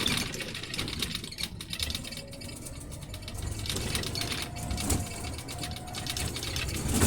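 A truck engine pulling in seventh gear as the throttle comes on, a steady droning rumble with faint mechanical whine that builds slightly, continuous and close throughout with no talking.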